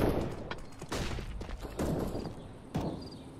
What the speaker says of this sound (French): Il tire loin.